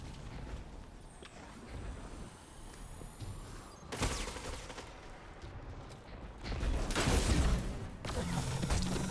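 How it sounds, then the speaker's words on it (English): Gunfire in a Destiny 2 PvP match sounds as fairly faint, distant crackling bursts, with a sharper crash about halfway and a denser rattling volley near the end. "there's no way I'm beating that machine gun"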